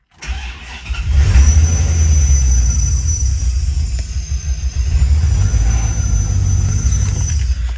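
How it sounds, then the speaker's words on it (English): A 1992-1996 Chevrolet Corvette C4 engine with a faulty fuel pressure regulator cranks and labors steadily with a rough, droning rumble that never quite settles, loud and close throughout. "the car struggled really hard just to start up"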